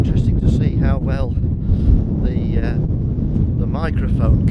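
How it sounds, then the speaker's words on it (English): Strong, gusty wind blows across open Lincolnshire farmland on a bright day and buffets the microphone with loud, rumbling low-end noise throughout. Someone speaks over the blustery roar. "it's a bright but extremely windy day here in sunny Lincolnshire"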